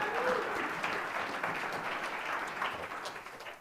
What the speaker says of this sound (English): let's give a huge final night round of applause for Bodie